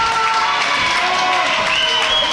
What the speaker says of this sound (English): Mr. Glitterbritches cheering Luke Savage on